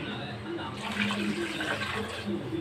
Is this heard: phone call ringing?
no